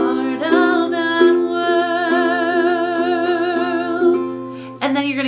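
Ukulele strumming a Little Mermaid tune, bright sustained chords with steady strong strums and a sharper strum change near the end, close and clear with no voice.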